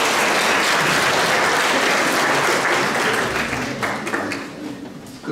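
Loud, sustained applause from a concert audience at a brass band performance in Bielsko-Biała Lipnik, a thick continuous roar of hands that gradually thins toward the end.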